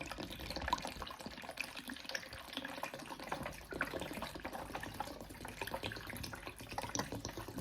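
A litre of coconut water poured from a carton into a blender jug, a steady liquid splashing and gurgling stream that runs continuously and evenly, fairly quiet and close, with no talking.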